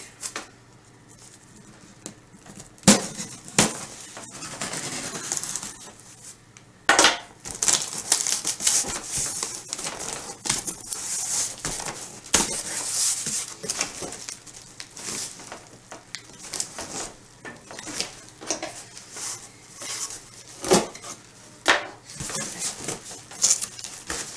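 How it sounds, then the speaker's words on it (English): A cardboard shipping box holding a Jackson WH40 Insight auto-darkening welding helmet is torn open by hand, with sharp ripping bursts and crinkly scrapes coming close and fairly loud in irregular spurts over about twenty seconds. "might as well just tear right into this box"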